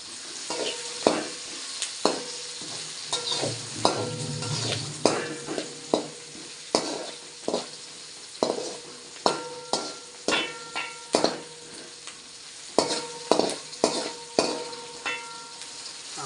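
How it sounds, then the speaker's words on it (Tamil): Mutton frying in a pan with ginger-garlic paste while a spoon stirs and knocks against the pan, with a continuous sizzle and a string of sharp, irregular metallic taps, close by. "நல்லா கிண்டணும்"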